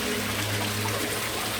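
Water trickles and splashes steadily through a homemade koi pond filter system, a continuous close, even wash of dribbling flow with a low hum beneath.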